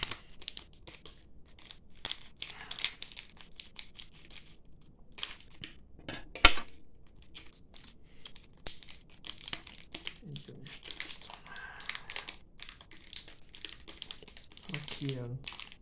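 A plastic bag of retro potato-sugar candy crinkles and rustles in bursts, close and fairly quiet, with a voice talking on and off between the crackles.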